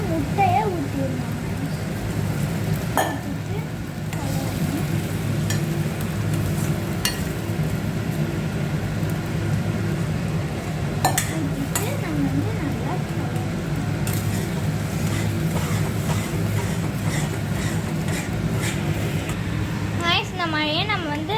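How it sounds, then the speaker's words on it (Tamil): Beaten eggs sizzle steadily as they fry and are stirred in a pan for egg poriyal, a continuous hiss running under a voice speaking throughout. "நல்லா அந்த மாதிரி வதங்கினதுக்கப்புறம் நம்ம கலக்கி வச்ச முட்டையை ஊற்றிடணும்."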